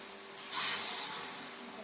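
Ground coconut masala is poured into a simmering bitter gourd tamarind curry, giving a sudden close, loud sizzling hiss that slowly fades over the next second or so.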